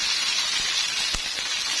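Bird's eye chillies stir-frying in a pan for sambal geprek, a steady close sizzling hiss with a few soft clatters of the spatula.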